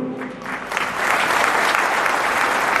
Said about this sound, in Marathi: त्यांच्यासाठी वाजवा जोरदार टाळ्या